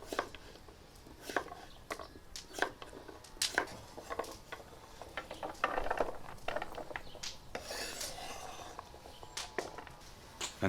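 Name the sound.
knife dicing pumpkin on cutting board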